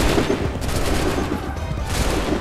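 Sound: musket volley gunfire in Assassin's Creed 3 video game

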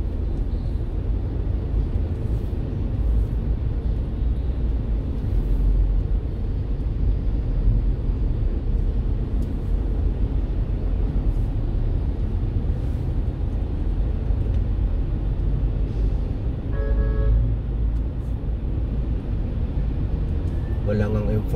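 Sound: road traffic along EDSA

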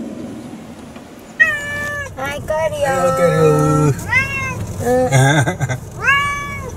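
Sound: cat meowing

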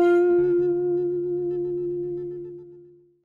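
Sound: electric guitar through direct input, no effects

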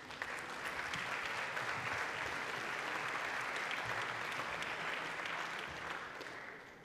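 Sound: audience applause for a speaker

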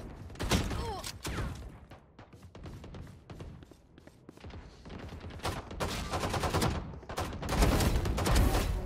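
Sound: Frenzy pistol gunfire in the video game Valorant

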